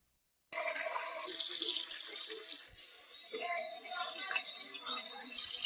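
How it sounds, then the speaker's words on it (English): Water gushing from a pipe tap, a close steady splashing stream that briefly dips and then resumes, while people talk over it. "The water run."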